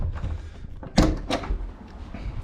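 A front door in a five-floor house opens with a sharp knock-like onset and rattle near the one-second mark, followed by softer handling sounds and room noise.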